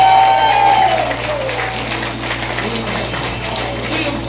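A church congregation claps in applause, a dense, loud wash of many hands that stays steady throughout, with a brief tonal sound at the start.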